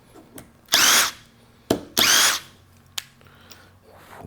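A Bosch Freak cordless impact driver fires in two short, loud bursts of about half a second each, with sharp clicks and knocks of handling between them, close to the microphone.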